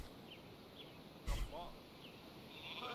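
Sheep bleat in the Northgard strategy game, with a couple of faint, short bleats and a brief thud in the middle over quiet game ambience, while a person talks.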